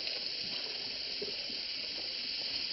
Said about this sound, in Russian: Да закройте же воду.